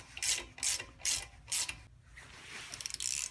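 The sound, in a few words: bolts being threaded into a Honda brake rotor to push it off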